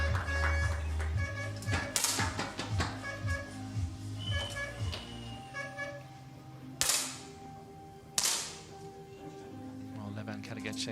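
Air pistol shots ring out during a mixed team shooting competition in Wroclaw, Poland: a few sharp isolated cracks stand out over a steady hall background with commentary talk running underneath.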